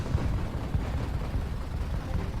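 Fireworks explode in the Donkey Kong Country Tropical Freeze video game, a dense rumbling run of low booms and crackles, loud and continuous with no voices.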